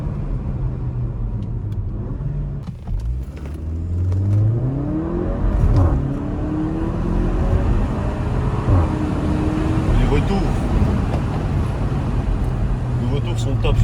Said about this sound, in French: C'est ça la différence entre l'échappement sport et l'échappement normal.